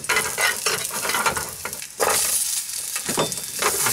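Mud crab frying in olive oil, heard as a loud, close, continuous sizzle with crackling spatter and intermittent stirring scrapes, no speech.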